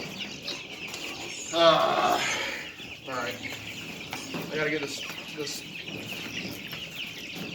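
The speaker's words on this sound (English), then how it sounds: "A big chicken's in here now." A chicken inside a homestead coop gives a few clucks and squawks scattered through the scene, close by and moderately loud, mixed with a person speaking and some rustling movement.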